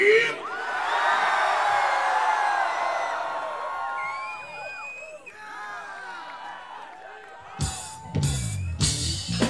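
A large outdoor festival concert crowd at Seattle Hempfest screams and whoops loudly, many high voices overlapping in a sustained roar that gradually fades, followed by a few sharp louder bursts.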